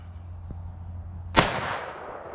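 A single loud gunshot from a .500 JRH handgun loaded with a Lee bullet over H110 powder, fired outdoors; one sharp crack with a decaying tail after a quiet lead-in.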